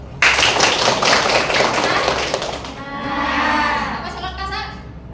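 A classroom of students claps together in a burst of applause that rises sharply and then fades out over several seconds.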